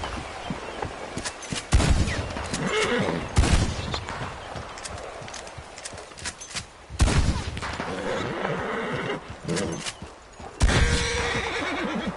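In the video game Red Dead Redemption 2, a horse whinnies loudly several times amid clopping hooves, with bursts of gunfire-like bangs breaking in between.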